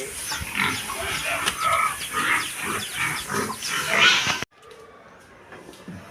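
Farm pigs grunt and squeal repeatedly up close, a busy, noisy stretch that cuts off suddenly into quieter scattered grunts.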